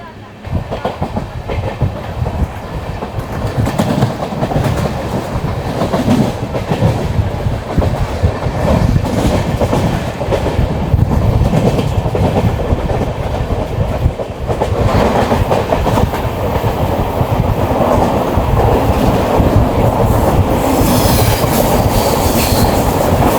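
Palnadu Express 12748, running with new LHB coaches just after leaving Sanat Nagar station, gives a loud, continuous onboard rumble with a steady clickety-clack of wheels over rail joints, and some faint wheel squeal.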